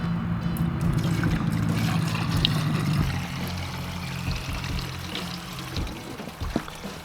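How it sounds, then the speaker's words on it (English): Water pours and splashes out of the bottom of a broken expansion tank on a BMW E36 M3, a steady gushing stream that thins into irregular trickles and drips toward the end. "all that water's pouring out of the bottom of the expansion tank"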